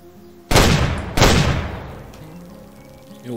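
Two close, loud shotgun blasts ring out about half a second apart while hunting geese in the game Way of the Hunter, each followed by a long rolling echo that fades out.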